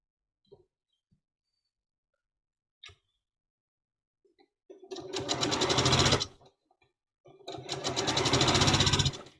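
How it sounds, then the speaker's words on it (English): A sewing machine stitches two fabric sets together in two loud, close bursts of rapid needle rattle, each lasting over a second, after a few soft clicks and near silence. "now what I'm going to do is sew these two sets together first"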